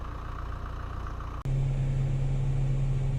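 A 2017 Chevrolet Colorado ZR2 with a 2.8 Duramax diesel sits stuck off-road, its engine droning steadily before a sudden jump into a loud, sustained roar as the wheels spin.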